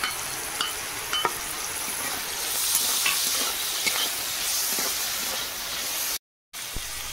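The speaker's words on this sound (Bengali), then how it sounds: "চিংড়ি মাছ আর পেঁয়াজ হালকা ভাজা হয়ে গেছে" Shrimp and onion fry in a pan for a home-style Bengali dish, giving a steady, close sizzle with faint stirring clicks and scrapes, briefly cut off near the end.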